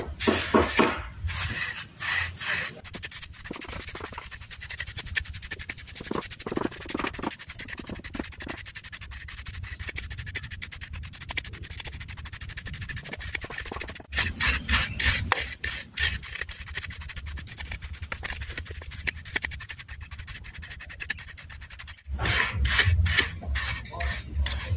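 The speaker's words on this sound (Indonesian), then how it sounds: "setelah mulai dingin, sekamnya kita haluskan seperti ini" Charred rice husk is crushed fine by hand, giving repeated gritty rubbing and grinding strokes in irregular bursts, close and moderately loud, with no talking.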